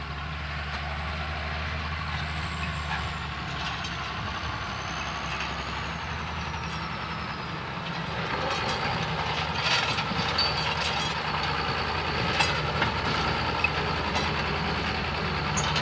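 Israeli barley seed drill vehicle running without liquid fertilizer, a steady low mechanical rumble with rattling and clanking throughout, growing slightly louder and busier in the second half, with no voices.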